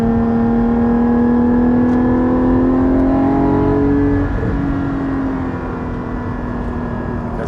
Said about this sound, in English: The Carrera S engine that this has it's very similar to the 2014 Carrera S sound.